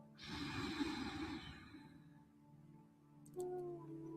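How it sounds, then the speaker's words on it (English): A slow, deep inhale drawn in through the nose during a guided meditation, soft and close, swelling then fading into quiet before a faint second breath begins. "Let's take a slow, deep breath in"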